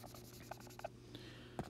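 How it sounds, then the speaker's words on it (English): Pencil writing on paper is erased in a few faint, quick scratchy strokes during a math lesson. "Let me erase that."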